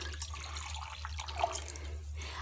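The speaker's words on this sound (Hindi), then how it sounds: "तो इसमें डाल देंगे हम, माठा में पानी डाल देंगे इतना" Water is poured from a vessel into buttermilk in a cooking pot for a rustic rice dish, a soft, steady splashing trickle, fairly faint with a low hum beneath.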